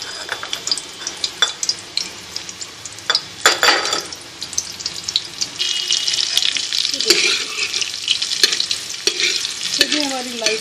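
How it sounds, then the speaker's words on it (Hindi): Sliced onions frying in hot oil for a mutton dish, a steady close sizzle with stirring scrapes and clinks throughout, no talking. "अब हम इसमें जो हमने प्याज के स्लाइस काटे थे वो इसके अंदर ऐड करेंगे लाइट ब्राउन होने के लिए"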